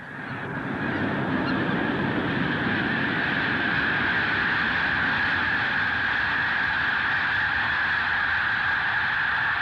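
A huge flock of snow geese honks continuously, a dense, loud chorus of overlapping calls that swells up and holds steady.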